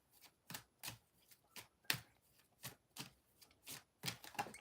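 Tarot cards being shuffled and drawn, a series of quiet, crisp flicking and slapping bursts at an uneven rhythm, close by with no talking.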